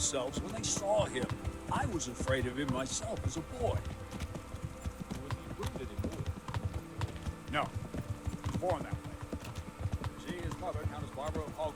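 Galloping horse hooves from Kingdom Come: Deliverance pound in a steady rapid rhythm throughout, with game ambience and someone talking over them.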